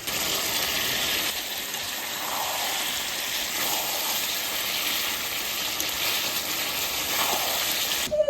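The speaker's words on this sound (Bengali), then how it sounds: "চিকেনটা কষানো চলছে" Chicken sizzles and fries steadily in a pan while being sautéed for kosha-style country chicken, a continuous loud hiss with no talk.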